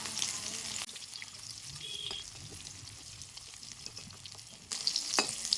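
Egg and cabbage pieces sizzle in oil in a wok just after being turned over. The steady close frying hiss is broken by louder clattering bursts near the start and again toward the end.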